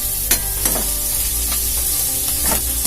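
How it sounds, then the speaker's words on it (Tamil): Onions sauté in a pan with a steady, close sizzle, broken by a handful of scraping stirs spaced about a second apart. No voices are heard. "வெங்காயம் வதங்கிச்சு."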